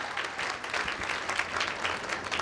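A live audience bursts into steady, dense applause at a business motivational talk, the clapping continuous and fairly close for the whole stretch with no voices over it.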